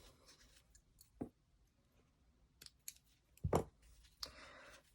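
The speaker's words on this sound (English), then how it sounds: "And just snip the end off." Scissors snip close by in a quiet room with several soft, separate cuts and clicks spread across a few seconds, the sharpest snips standing out clearly above faint handling noise.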